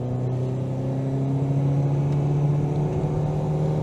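A Ford Mondeo MkIII with a 1.8 engine accelerating, heard as a steady, loud engine drone with a low tonal hum and road rumble throughout.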